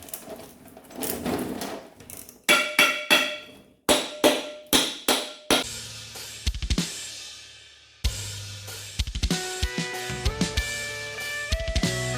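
Sharp metallic hammer blows land in irregular bursts, each strike ringing briefly, with short pauses between groups of hits.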